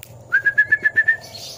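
A sooty-headed bulbul gives a run of six or seven even, whistled notes in a steady rhythm, clear and fairly close, then a soft rushing fades in.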